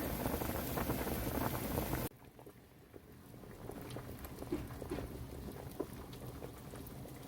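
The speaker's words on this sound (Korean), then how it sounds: "지금 2시간째 끓이고 있어요." Korean ox-foot soup (uzoktang) simmering in a pot after two hours of boiling, a steady soft bubbling and pattering that starts louder and then settles into a quieter continuous burble.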